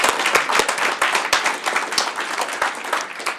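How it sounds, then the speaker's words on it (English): Audience applause for speakers and award winners at an abilities awareness rally, a dense wash of clapping with sharp individual claps standing out, steady and fairly loud throughout. "Let's give all of our speakers and award winners another round of applause."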